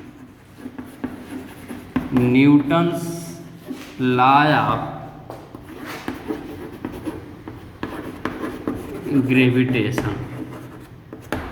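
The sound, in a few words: writing on a board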